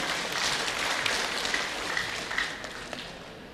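Audience applause at a public debate for the 2018 Prabumulih mayoral and deputy mayoral election, a steady, dense wash of clapping sustained throughout without voices.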